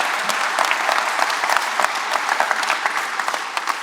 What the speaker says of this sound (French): Donc je vous demande de l'applaudir également.